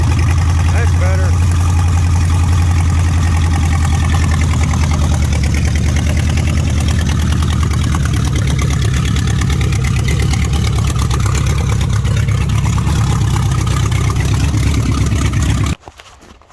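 A Mopar 440 V8 in an old motorhome runs steadily, a loud, continuous low rumble that cuts off abruptly near the end, with voices talking over it.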